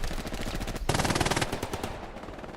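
MG42 machine gun in the game Hell Let Loose firing a fast, steady burst, loud and close, with rapid rattling shots running through the whole short stretch.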